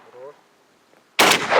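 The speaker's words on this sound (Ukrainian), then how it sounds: "Постріл! Постріл!" A single loud, sharp gunshot bursts out after a near-silent stretch, following a brief faint voice at the start, with a booming tail.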